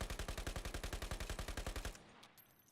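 An SMG in the video game Ironsight fires one continuous burst of about twenty rapid, evenly spaced shots lasting roughly two seconds, then falls into a fading tail with faint clicks.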